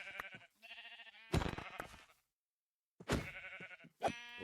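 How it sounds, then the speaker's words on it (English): Sheep in the Minecraft modpack All The Mods 8 give several close bleats in short bursts, separated by pauses of silence. "We've got some sheppies."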